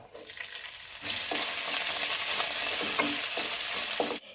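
Chopped green chillies drop into hot oil for semiya upma and burst into a loud, sustained sizzle after a quieter first second, with a few stirring clicks before the frying cuts off abruptly.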